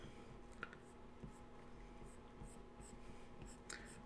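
A pencil eraser rubs repeatedly over lines on a dinosaur drawing, making faint scratchy strokes in a loose rhythm above a low background hum.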